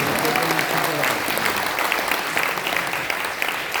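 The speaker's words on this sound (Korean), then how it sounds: "다시 한번 감사의 박수를 보내주시면 고맙겠습니다" Audience at a national elders' rally gives loud, sustained applause, a dense crowd of clapping hands with voices and cheers mixed in throughout.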